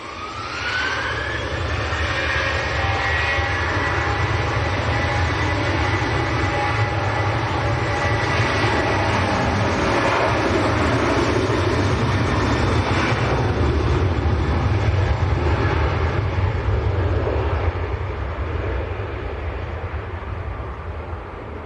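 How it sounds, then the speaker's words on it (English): Ryanair passenger jet bound for Kerry at Manchester Airport, a loud continuous engine roar with whining tones and heavy low rumble, steady for about twenty seconds and heard alone. "This is Ryanair to Kerry. Just a 500-kilometre flight."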